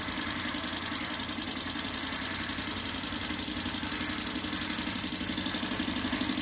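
A small Okmo Microcosm Rider Ericsson model hot-air engine, Model R01, running after firing up: a rapid, even mechanical ticking and knocking pulse with a faint whirring hum, close and steady throughout.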